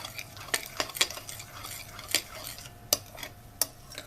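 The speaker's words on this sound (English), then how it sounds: "I'm going to add my yeast in the mixture. There, I mix together" Banana donut batter is mixed with a utensil in a bowl, giving sharp, irregular clinks and scrapes against the container over a quiet background with no talking.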